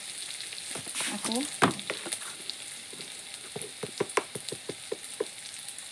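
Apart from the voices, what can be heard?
onions frying in a pan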